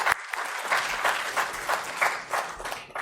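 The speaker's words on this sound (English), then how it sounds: "I think that deserves a round of applause." Audience applause at a fireside chat event, a moderately loud wash of clapping with a few distinct claps standing out, swelling in gentle waves over about three seconds.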